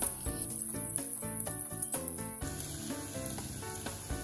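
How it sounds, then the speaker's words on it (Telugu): Garlic and turmeric sizzle steadily in hot tempering oil for a rasam, a loud continuous fry with crackling pops throughout. "మిగిలిన పోపులో కొంచెం వెల్లుల్లి, 1/2 టీ స్పూన్ పసుపు వేసి బాగా కలుపుకోవాలండి."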